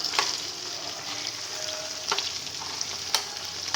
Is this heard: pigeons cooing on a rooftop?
no